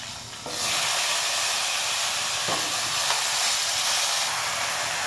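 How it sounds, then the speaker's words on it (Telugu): Eggplant pieces dropped into a hot pan with turmeric and ginger, bursting into a sudden loud, broad hissing sizzle after a brief quieter lead-in that then holds steady and close. "ఇప్పుడు వంకాయ ముక్కలు అయితే వేసుకోవాలి"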